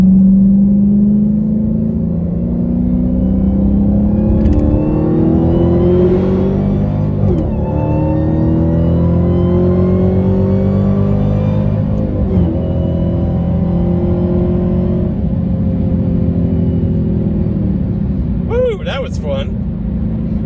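A Hellcat-powered 2021 car accelerates hard from inside the cabin, its engine droning and climbing steadily through the revs toward about 6,000 rpm, loud and continuous with a brief blip near the end.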